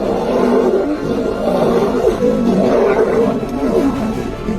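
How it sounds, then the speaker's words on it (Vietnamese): Lions fighting on the savanna give deep, rolling roars and growls that overlap continuously, loud and close, with no talking. "những con sư tử lao vào nhau, móng vuốt xé rách, hàm răng cắn mạnh, và những tiếng gầm vang vọng khắp thảo nguyên"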